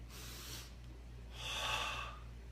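Slow, deep breaths from a bedtime breathing technique, with one long inhale followed by a stronger, longer exhale, close and quiet with no talking.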